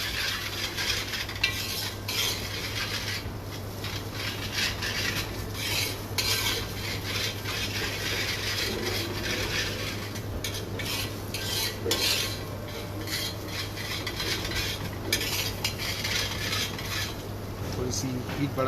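Ginger garlic paste and onions sautéing in a pan, with steady close stirring and scraping of a spoon against metal over a continuous frying hiss and a low background hum, no one speaking.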